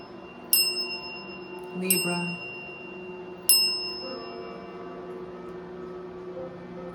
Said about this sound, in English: I actually want to ring the bell for you.